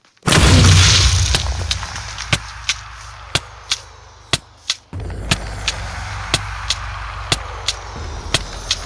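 The Ender Dragon in Minecraft dies and explodes, a sudden loud blast that sustains and slowly fades, then a second surge, with sharp rhythmic cracks repeating throughout.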